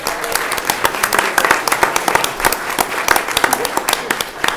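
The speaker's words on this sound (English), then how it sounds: "Let's give these doctors a round of applause" An audience at a city council meeting gives a round of applause for chiropractic doctors: loud, close, crisp clapping with sharp individual claps standing out, continuing steadily for a few seconds.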